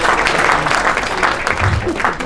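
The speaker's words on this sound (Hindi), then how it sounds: "तो एक बार बाजू वाली तालियां बजा दो" A seated audience at a Rajasthan Rajdhani ITGK meet gives a dense, steady wash of applause, many hands clapping at once with a loud, continuous texture and faint voices mixed in.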